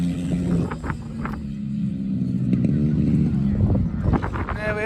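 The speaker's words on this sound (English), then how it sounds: "that is some GT140 action from the fabulous Swingfield circuit" GT140 race cars lapping the Swingfield circuit on a test day, engines droning and revving past at moderate distance, with a voice talking over the continuous mechanical roar.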